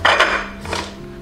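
A bowl of steamed tofu is flipped onto a plate with a close, sharp ceramic clatter followed by a second lighter knock as it settles.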